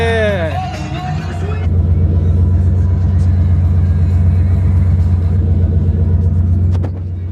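A 1992 Ford F-150 with a 5.0L V8 idles steadily and loud after a brief voice at the start, its low rumble holding evenly for several seconds before easing off near the end.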